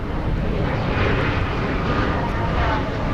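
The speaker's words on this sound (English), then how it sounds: "Got an E-Jet checking in." An Embraer E-Jet airliner roars steadily and loudly overhead at Dallas Fort Worth airport, its broad engine rush filling the air with no break.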